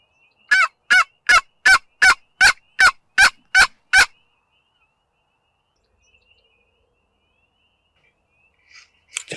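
A wild turkey gobbles near a cornfield in a rapid run of about nine loud, evenly spaced calls over four seconds, followed by quiet and a faint call at the end.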